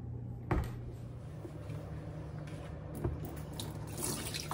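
Water from soaked beans is poured off into a sink in a steady, splashing trickle with a few louder sloshes and clinks, heard alone and fairly quiet.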